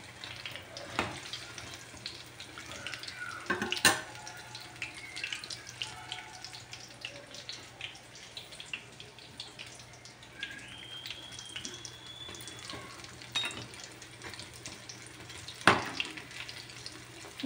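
Paneer bajji deep-fry in oil with a low, steady bubbling sizzle close by, broken by occasional sharp clicks and pops over a long, quiet stretch.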